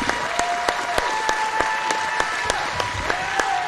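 Wrestling fans at a 2006 IWA Mid-South King of the Deathmatches show applaud and cheer steadily, a dense wash of clapping from a large indoor crowd with sharper claps popping out near the front, no talk over it.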